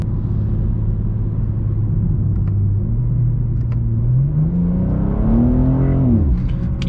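A rear-wheel-drive BMW M2 on an unrestricted German autobahn holds a loud, close engine drone that climbs sharply in pitch as it accelerates, then drops away at the end.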